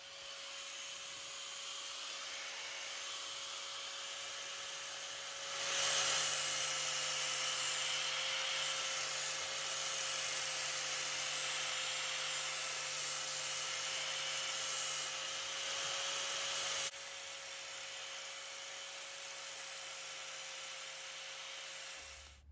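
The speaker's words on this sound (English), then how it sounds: "I'm just gonna clean this up with a flapper disc, I think." A flapper disc on a grinder cleans up a cut edge on a Jeep JK shifter bezel, a steady whirring hum with a rougher, louder grinding stretch in the middle, close and continuous.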